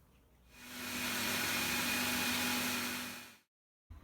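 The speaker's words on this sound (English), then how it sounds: "we'll just pop that into the blender and we'll get that blending away nice and smoothly" A kitchen blender purees carrot, caraway and orange soup, spinning up to a loud steady whir for about three seconds before cutting off abruptly, with no talking.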